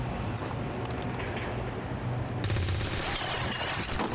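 Weapon fire in the XCOM 2: War of the Chosen video game, a rattling burst of shots that grows louder and denser partway through over a steady background of game sound.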